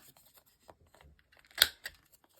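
Scissors snipping paper to round the tops of craft tags, heard as a few faint close cuts with one sharper crisp snip near the end, alone and quiet.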